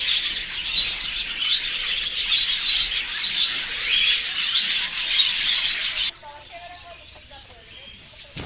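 Many birds chirp and tweet in a dense, busy chorus, then the flock thins abruptly to scattered, quieter calls.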